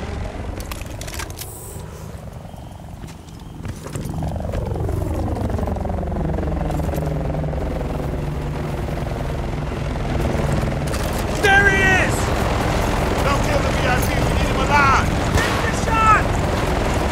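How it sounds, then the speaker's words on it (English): A helicopter in the Battlefield: Bad Company 2 video game roars with throbbing rotor noise that grows louder and closer, mixed with rumbling game effects and chatter from other voices. "That chopper's gotta be for him."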